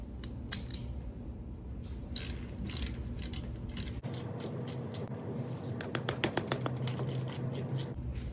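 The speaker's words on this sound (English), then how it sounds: "For these 2 plugs, you got to get a 3/4 inch ratchet." A 3/4 inch ratchet works the oil drain plug on a 1998 Harley-Davidson Dyna Super Glide, giving a run of sharp, quick clicks near at hand, growing denser in the second half.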